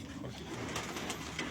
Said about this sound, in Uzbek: Shunaqa katta o'yinchi kaptar ekan bu.